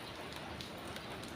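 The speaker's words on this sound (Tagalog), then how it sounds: "Siguro sandali lang naman tong ulan na to." Rain pouring steadily outside, a continuous wash of drops with faint individual patters rising now and then, no voices present.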